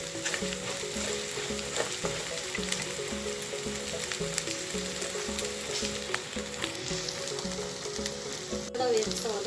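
Ginger garlic paste frying in sesame oil for a prawn pickle, giving a steady, continuous sizzle with light stirring noises and occasional small pops, close and even throughout with no talking.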